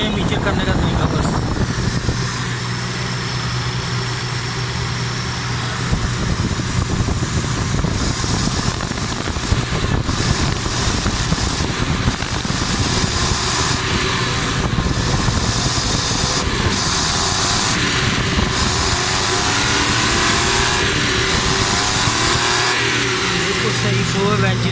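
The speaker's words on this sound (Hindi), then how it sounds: "ज़बरदस्त साउंड हो गया गाड़ी का।" A Suzuki Mehran car engine idles smoothly and steadily close by, a continuous even hum with a constant tone throughout.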